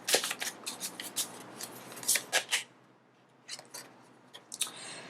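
Tarot cards being shuffled and drawn during a psychic reading, a series of crisp riffling bursts and soft slaps close by, followed by a short pause and a few more quick card flicks and snaps near the end.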